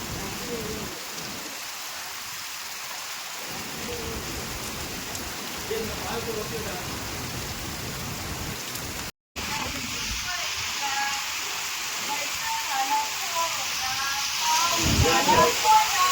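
Heavy rain falls in the Konkan, with roof runoff dripping from the eaves, a steady moderate hiss that grows louder toward the end, broken by a brief gap partway through.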